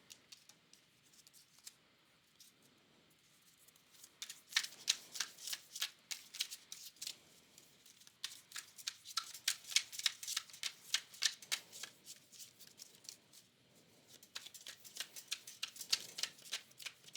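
A deck of tarot cards is shuffled close up, giving repeated crisp riffling bursts in several runs separated by quiet pauses, fairly faint.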